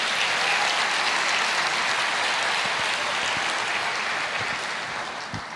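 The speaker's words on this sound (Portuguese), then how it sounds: "Pode aplaudir o Senhor." A church congregation claps in loud, steady applause that fills the room, then begins to fade toward the end.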